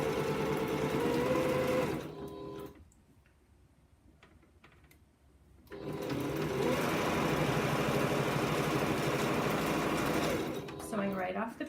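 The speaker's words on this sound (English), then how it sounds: "Matching up the seams as I stitch." A sewing machine stitches rows of a quilt with a fast, steady mechanical whir, stopping for a few seconds before running again, close and fairly loud.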